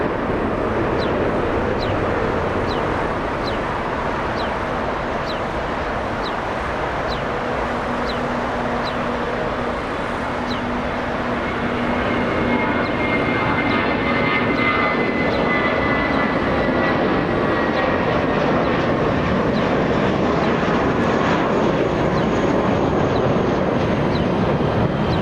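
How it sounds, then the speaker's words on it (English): An airliner landing at LAX on runway 25 left roars through reverse thrust, a loud sustained broadband jet rumble and whine that swells midway and stays heavy, heard alone from nearby. "Oh, hear this. Reverse thrust."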